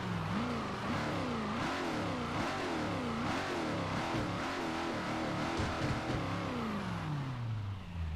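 A Porsche Panamera engine in Forza Motorsport 4 revs steadily and repeatedly, its pitch rising and falling in a wavy pattern as it accelerates through gears, then trailing off in a falling tone near the end, loud and close with no talking.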